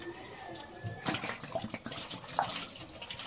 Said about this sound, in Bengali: আমি জলটা ঢেলে দেবো